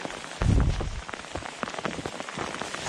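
Rain falling outside a cabin hotel, a soft steady patter of drops with a brief louder low thump near the start, otherwise faint and even throughout.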